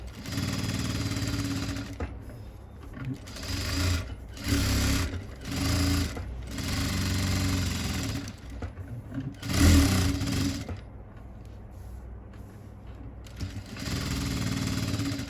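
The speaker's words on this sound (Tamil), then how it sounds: "இப்போ இதுக்கு ஒரு டம்மி தையல் போட்டுக்கிறோம்" A sewing machine stitching a normal blouse, running in close, loud bursts of rapid mechanical chatter with short pauses between runs, and no speech.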